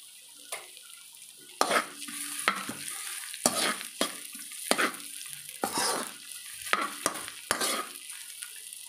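Onion hits hot oil in a pan and fries for a Chinese-style milkfish (bangus) dish, with a soft steady sizzle broken by repeated sharp scrapes and clinks of a utensil stirring against the pan, close-up.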